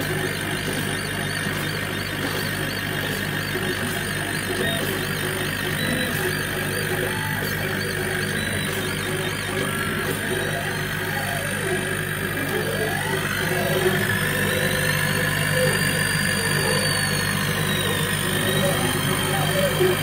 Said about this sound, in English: Just turn on the air pump and we'll push start.